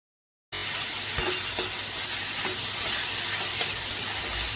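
Fish balls simmering covered in a pan, a soft continuous hiss and bubbling sizzle with a few faint clicks, starting abruptly after a short silence and holding steady.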